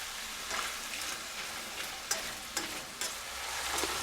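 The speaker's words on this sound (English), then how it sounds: "You want everything to saute nice and evenly." Meat and vegetables sautéing in a pan with a tablespoon of soy sauce for curry chicken fried rice, a continuous close sizzle with a few distinct scraping stirs partway through, no voices.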